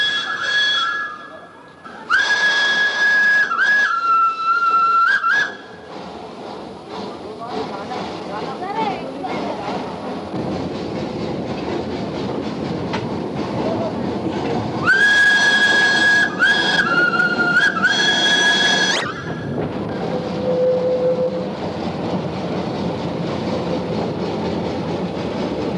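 A steam tram in suburban Surabaya, Indonesia sounds two long whistle blasts with steady tones, over the rumble and rhythmic clatter of wheels on rails, with the train noise continuing loudly throughout.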